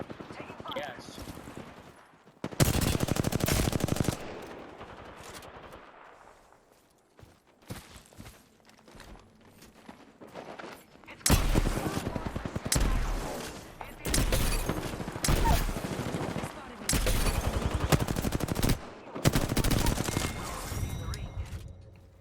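Gunfire in the battle royale game Apex Legends: long sustained bursts of automatic weapon fire separated by quieter stretches, loud and close, with in-game voices and chatter heard at times.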